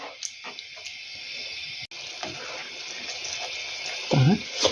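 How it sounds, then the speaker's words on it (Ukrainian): Roughly 100 ml of water poured from a container into a pot of frying paste and peppers on a home stove, a steady running hiss lasting several seconds with a short splashing burst near the end. "Дам сюди трошки води. Отак десь 100 мл додала."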